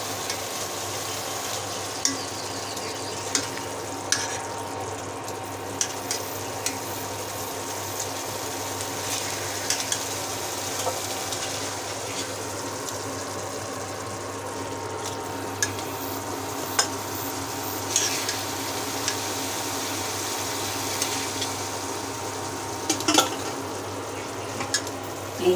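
Water lily stems are stirred into a pan of hilsa fish cooked with mustard paste, giving a steady low sizzle with scattered scraping and clinking of a spoon against the pan throughout.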